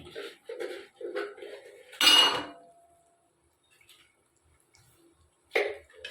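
A cooking pot of chicken biryani clanks as its metal lid comes off and a spoon scrapes and clinks inside, a few sharp bursts with quiet gaps between.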